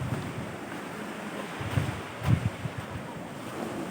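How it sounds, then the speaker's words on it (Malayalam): Strong sea wind sweeps across the Bekal coast in Kerala, a steady broadband rush with a few louder gusts and surf-like swells, fairly close to the microphone with no voices. "നല്ല കാറ്റുണ്ട്"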